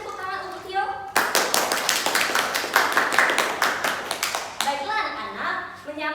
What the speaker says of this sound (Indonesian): Mari beri tepuk tangan untuk Tio.